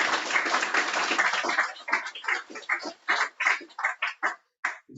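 An audience at a live music venue gives a round of applause, starting as dense, steady clapping and thinning into scattered individual claps that fade out.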